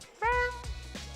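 A man imitates a cat with his voice, giving one drawn-out, nasal meow that rises and then trails off, followed by a few softer vocal sounds in a quiet room.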